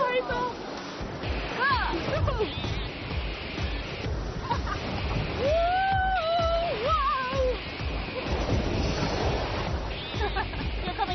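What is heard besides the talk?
river rapids splashing during rafting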